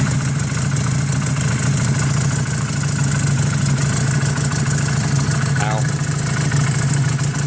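A Honda CB250 bobber motorcycle engine runs steadily at idle, a constant close, loud drone with no breaks, under a brief voice.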